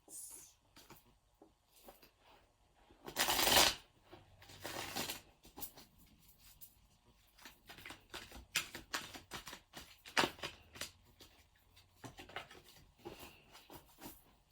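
Tarot cards riffled and shuffled in several quick bursts, with soft papery slaps and rustling, close by and fairly quiet.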